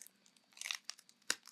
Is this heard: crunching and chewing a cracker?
yes